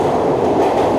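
The Rajya Rani Express (17611, Nanded to Mumbai) runs through Dadar at speed, giving a loud, steady, close rail rumble with a continuous wheel roar and no voices.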